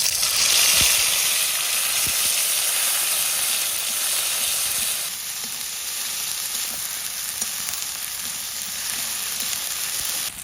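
Cumin seeds, bay leaves and dried chillies hitting hot oil in a village kitchen, a loud steady sizzle and hiss that settles slightly softer halfway through and carries on alone.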